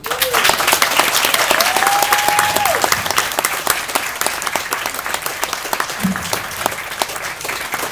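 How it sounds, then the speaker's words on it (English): Wedding guests break into loud, sustained applause, a thick wash of clapping from a full room, with a few faint whistles or calls rising briefly above it. "Have a round of applause, please."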